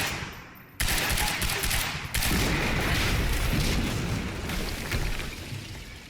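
Heavy explosion and rapid gunfire fill a firefight in the video game Quantum Break, a sudden loud blast followed by sustained dense bursts of shots and rumbling booms, with no voices.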